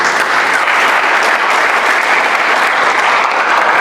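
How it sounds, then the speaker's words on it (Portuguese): Loud, dense applause from a congregation at a church service, a continuous wash of many hands clapping close by without a break and with no voices over it. "Você podia dar um aplauso a ele por isso."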